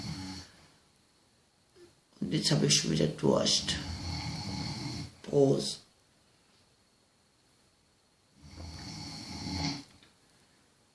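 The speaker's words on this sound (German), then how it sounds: "Mein Schatz schnarcht. Er macht den Schnarchalarm." Man snoring in bursts: a long rasping stretch, a short loud snort, then another snore after a pause, with someone talking quietly in between.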